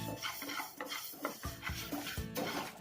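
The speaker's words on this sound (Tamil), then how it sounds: "இதுவும் பார்த்தீங்கன்னா நல்லா பொரிஞ்சு வர வரைக்கும் நம்ம வறுக்கணும்" Dry rice being roasted in a pan and stirred, with faint scraping and light metallic taps of a utensil against the pan, a few sharper knocks, quiet and close, no talking.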